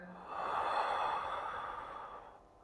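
A slow, audible breath drawn through both nose and mouth during a mixed-style Tai Chi breathing demonstration, one long airy exhalation swelling and fading over a couple of seconds, close and alone without speech.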